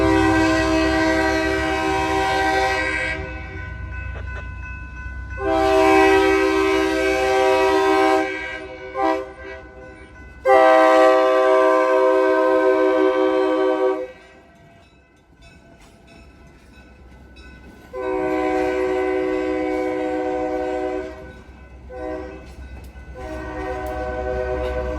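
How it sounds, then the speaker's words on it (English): An inbound WeGo Star commuter train led by Gallery Car 790 sounds several long, loud horn blasts in separate bursts over a low rumble of rolling cars, with quieter gaps between blasts. "we stay in around the same area for an inbound train, this one being led by Gallery Car 790."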